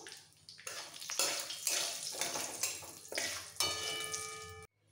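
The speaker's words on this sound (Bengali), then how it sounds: "একটু ভেজে নেব।" Whole cumin seeds and two small bay leaves frying in hot oil left from frying potatoes, a steady hiss and crackle with louder stirring bursts throughout, close and continuous until it cuts off near the end.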